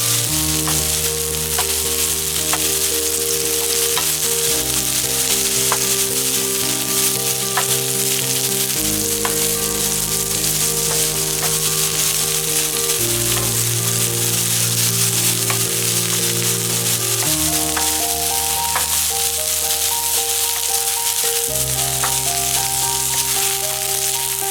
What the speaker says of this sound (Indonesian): Lalu tumis dan aduk gambas sejenak.